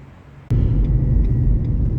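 A 2023 Dacia Jogger 1.6 E-Tech Hybrid Extreme starts off, and a steady low rumble of engine and road noise swells in abruptly after half a second and holds.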